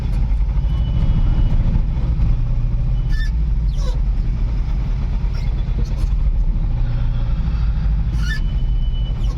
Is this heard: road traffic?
yes